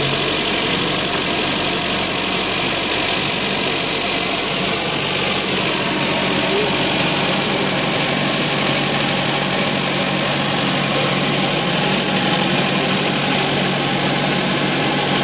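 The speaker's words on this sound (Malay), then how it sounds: "Saya panaskan enjin terlebih dahulu sebelum saya start." A warmed-up Nissan C22 Vanette engine idles steadily, a van that is hard to start and short of power. The idle is loud and close, an even continuous drone with a faint vibrating rattle and no change in speed, and no voices.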